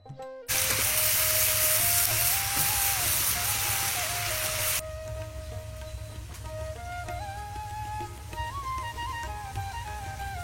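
Hilsa fish roe and bottle gourd cook in a pan in a rural Bangladeshi homestead courtyard. A loud, steady sizzle starts abruptly and continues throughout, easing slightly partway, with faint background sounds beneath.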